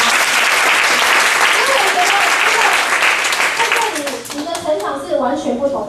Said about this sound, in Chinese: 给我们一个掌声好吗？